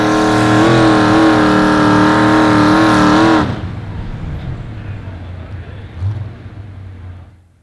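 A 4x4 pulling truck at an outlaw truck pull in Marthasville, Missouri roars loudly at high revs for about three seconds, then shuts down abruptly, leaving a lower rumbling idle and background noise.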